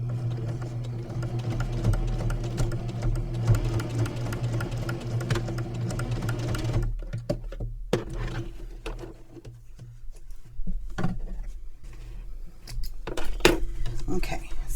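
A domestic sewing machine stitches a quarter-inch seam, its motor whirring steadily up close for several seconds before stopping, followed by soft clicks, pin handling and light handling noises, with a voice speaking over parts of it.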